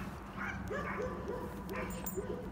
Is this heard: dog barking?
yes